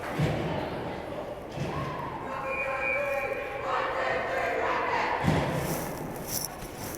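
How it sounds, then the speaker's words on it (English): Girls' hockey team at a tournament game giving a loud 1-2-3 Rockets group cheer, a shouted crowd chant over arena noise, with a thud near the end. "The most vociferous 1-2-3 Rockets that we've heard in the tournament so far."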